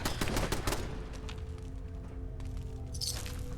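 Automated turret gunfire in Fallout 4, sharp rapid cracks crowding the opening second and then thinning into scattered softer shots over a steady background rumble.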